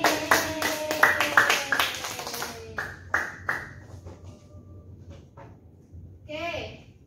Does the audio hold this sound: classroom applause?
yes